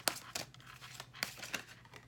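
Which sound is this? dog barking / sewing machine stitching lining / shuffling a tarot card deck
shuffling a tarot card deck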